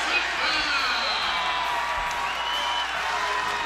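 A packed basketball crowd cheers and whoops steadily in Swisher Gym, a loud, continuous roar of voices filling the arena throughout.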